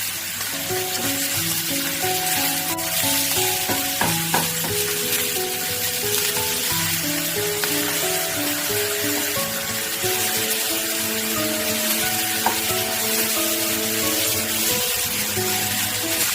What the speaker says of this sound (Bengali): মাছের মাথাগুলোকে একদম লাল লাল করে ভেজে নিতে হবে